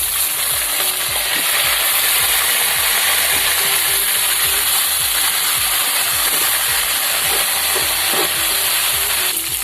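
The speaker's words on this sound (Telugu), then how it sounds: "జీలకర్ర వేసుకున్నాను ఇంకా ఎర్రగా వంకాయలు వేసుకున్నాం" Brinjals frying in a pan with cumin seeds and curry leaves give a loud, steady, close sizzle and hiss that runs unbroken throughout, with faint scraping of stirring underneath.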